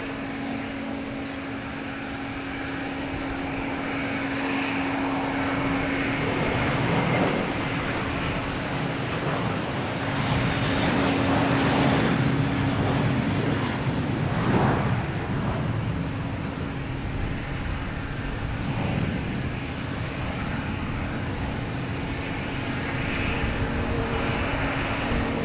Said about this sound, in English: we have an American Airlines taking off, heading to Philadelphia.